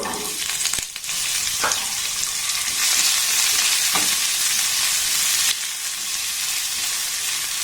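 Chopped onion for aloo chop fries in hot oil with a loud, close, continuous sizzle, broken by occasional scrapes and taps as it is stirred in the pan. No one speaks.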